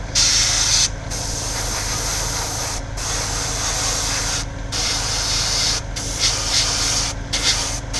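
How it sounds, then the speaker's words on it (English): A spray gun sends out a thin stream of paint in a steady hiss, cut by several brief pauses where the trigger is released, loud and close with no talk. "So we have very thin, not a lot of paint coming out."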